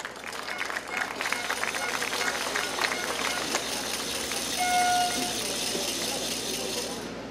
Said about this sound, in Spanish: Y lo recibimos con fuertes palmas